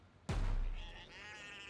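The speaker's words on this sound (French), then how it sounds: "il y a un putain de mouton qui arrête pas d'exploser sur les mines" Sheep in the Just Die Already video game, a sudden loud blast from a mine followed by a wavering bleat that fades out, heard alone.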